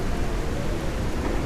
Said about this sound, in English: Even the raindrops looks wicked. Almost sleety rain, isn't it?